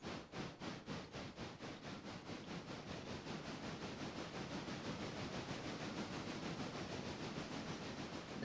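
Train rolling along the line in the game Railroader, a steady low rumble with a rapid rhythmic clatter that smooths into a continuous wash, faint and with no talk.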